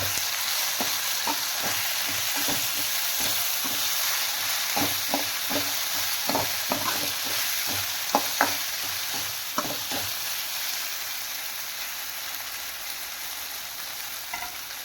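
Chicken keema sautéing in a pan gives a steady, close sizzle, with a series of sharp scraping stirs of a spatula against the pan in the first ten seconds, then a plain continuous fry with no talk.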